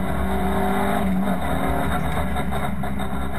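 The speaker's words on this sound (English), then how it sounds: "The cars make the run downhill once again." VW Cup race cars run downhill at Spa-Francorchamps, engines droning loud and continuous with a steady buzzing roar and slight shifts in pitch as they pass.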